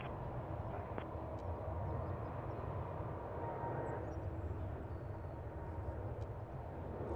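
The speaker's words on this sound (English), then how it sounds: "Did you guys hear that plane take off?" An airplane takes off at Toronto airport, its heavy, broadband jet roar rumbling steadily and continuously at a distance, with no voices over it.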